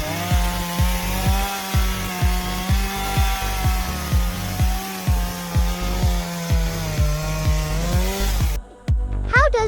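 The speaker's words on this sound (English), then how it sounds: "Why is the bark of this tree trunk being cut with a chainsaw?" A loud chainsaw grinds steadily through the bark of a date palm trunk in rhythmic surging strokes, close by, before it briefly cuts out near the end.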